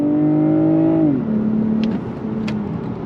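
A Lexus ES 350 F Sport's V6 engine pulls on throttle, a steady rising drone that drops in pitch at a gear change, then continues smoothly and close inside the cabin.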